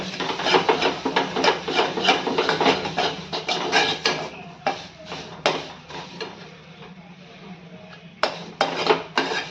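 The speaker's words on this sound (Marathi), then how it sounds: "हळद परत एकदा व्यवस्थित मिक्स करून घेऊया" A spoon stirring and scraping turmeric through masala in a pan for a rustic Maharashtrian udid ghut, giving repeated rubbing, scraping clatters in irregular bursts, close and fairly loud, with no talk.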